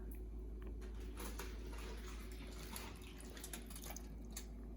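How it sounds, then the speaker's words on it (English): Water pours steadily into a cooking pot for chicharrón with a continuous splashing, hissing flow, heard alone. "I'm gonna add 1 cup of water"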